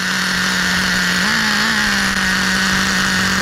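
A Traxxas Revo RC truck's small engine buzzes continuously at high pitch while warming up, with a brief rise in revs midway, loud and close.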